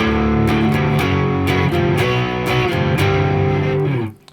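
Distorted electric guitar chords strummed in a steady rhythm, loud and close, with ringing open strings between changes, ending abruptly.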